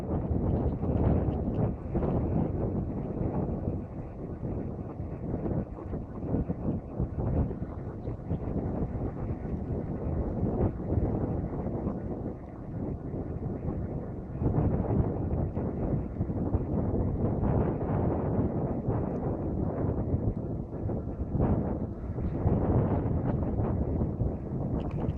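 Wind buffets the microphone while an eBike rolls downhill into a headwind on Yarrowford Road, a loud, constant roar with gusty surges that lasts the whole time.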